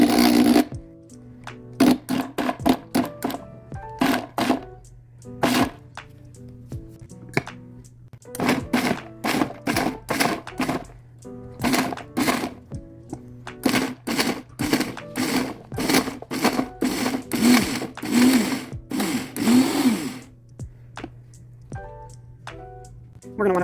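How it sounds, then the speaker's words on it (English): Bars of homemade laundry soap fed one at a time into an electric grater, producing loud bursts of whirring and chopping that start and stop irregularly, with brief quieter gaps between runs. "into pieces like that, into the grater. I do 1 bar at a time."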